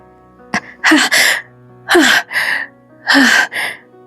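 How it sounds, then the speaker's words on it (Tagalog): Heavy, strained breaths repeat three times, each a sharp gasping inhale followed by a rasping exhale, close and loud. "tunog ng malalim at pilit na paghinga"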